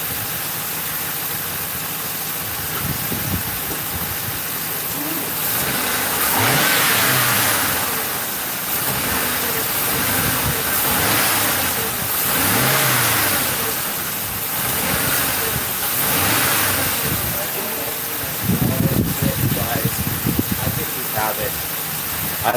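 A police cruiser's engine idles and swells in repeated revs as the throttle is tapped, loud and close, rising and falling several times, with a sharper burst of revving near the end and people talking at moments.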